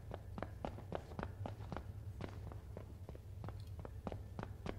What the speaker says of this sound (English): Listen to his little footsteps.